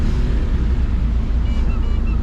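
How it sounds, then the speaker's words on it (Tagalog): Flood water surges around a 1000 kg Lalamove delivery van on a rainless day, sounding like the sea: a loud, steady, rushing roar with a low rumble that never lets up. "tunog ng dagat"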